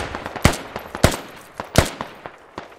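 Bursts of automatic rifle fire in the military shooter game Squad, several sharp loud cracks with fainter shots between, close and rapid in an uneven rhythm.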